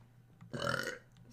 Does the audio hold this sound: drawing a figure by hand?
no